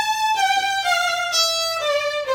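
A violin played by a teacher draws one long, steady bowed line with a few slow changes of pitch, bright and close, with nobody talking over it.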